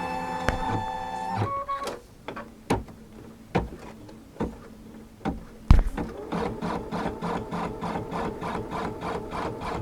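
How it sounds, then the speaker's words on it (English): Sewing machine running a basting stitch through fabric for a Christmas tree garland, heard close with a short run, several isolated clicks and thumps, then a longer steady rhythmic stitching burst. "I want to stitch that because I want that basting stitch to hold this fabric down"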